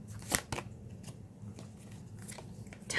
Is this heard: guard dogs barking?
no